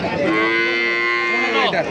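Close, loud cow lowing at a rural cattle market, a dairy cow among Sahiwal and Holstein Friesian breeds, with one drawn-out bellowing moo that fills the whole two seconds and rises slightly near the end.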